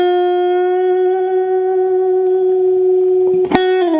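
Electric lead guitar playing the intro solo of a song, a clean sustained note ringing with reverb and held for several seconds, then a brief pick scrape and a shift to another note near the end, without any talking.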